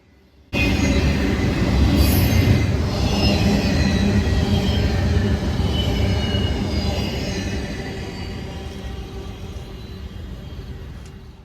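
A Union Pacific freight train rolls past loudly and continuously, wheels rumbling and faintly squealing, slowly fading toward the end.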